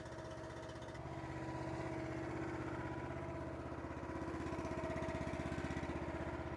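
A Wolfe Ridge 28C compact commercial log splitter's small engine idles steadily to warm up, a continuous low throbbing drone close by with a faint rhythmic chug and no talk.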